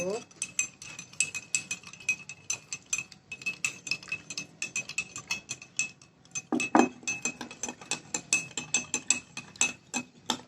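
A spoon stirring sugar into water in a drinking glass during a classroom science experiment: rapid, steady clinking of metal on glass, close and light, with a few louder knocks.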